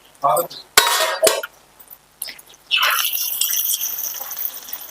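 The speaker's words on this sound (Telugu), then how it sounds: "ఎగ్ ఇలానే కలపాలి" Beaten eggs are stirred in a pan for a spicy Telugu egg dish, with a few sharp clinks and scrapes of a utensil against the pan followed by a steadier sizzling hiss.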